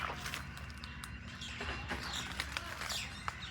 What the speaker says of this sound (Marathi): पक्षी.